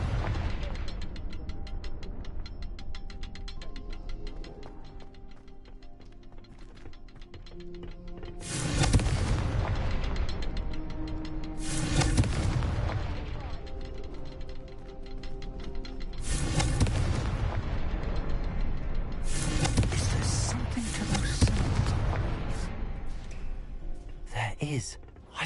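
Confringo blasting spell in Hogwarts Legacy, a series of heavy booming explosions, roughly five separate blasts spaced a few seconds apart, each with a sharp crack and rumbling tail over a background of music.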